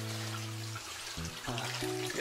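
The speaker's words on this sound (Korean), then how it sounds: "물소리가 너무 좋습니다." Water runs and trickles in a garden at a countryside house, a soft, faint steady flow with a low hum in the background.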